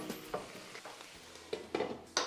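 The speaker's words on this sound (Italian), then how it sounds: "Diamo una mescolata" Soft scraping and clinking of a utensil stirring in a pot, several quiet strokes at an uneven pace with a faint sizzle underneath.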